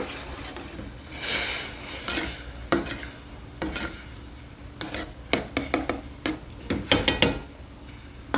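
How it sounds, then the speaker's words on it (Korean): Sugar syrup with bellflower root cooks in a pot for a Korean candied root dish, giving a steady sizzling bubble broken by sharp clinks and scrapes of a utensil against the pot, close up with no talking. "터지는 소리도 나면서 농도가 나는 소리가 들리는데 이때 물엿을 넣어줍니다."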